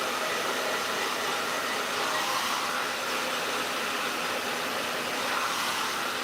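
A hair dryer with a diffuser attachment blows steadily on wavy hair, giving a constant close, loud whooshing hiss that runs without a break.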